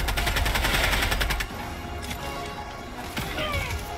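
Rapid automatic gunfire at a robot in Helldivers 2 rattles loudly for about a second and a half, followed by scattered fainter shots and impacts.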